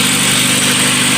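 A VW Golf/Polo Classic with the MP9 engine idles just after a cold start, a car with a fluctuating-idle fault. The engine hums loud, close and steady with a low drone and no voices.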